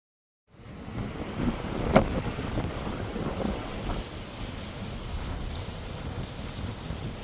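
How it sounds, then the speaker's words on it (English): Steady low rumbling wind buffets the microphone throughout, a broadband roar with gusty swells and a brief sharp thump near the start, with no voices, on an elevated adults-only spot in Panama where a breeze comes through. "You probably heard the wind."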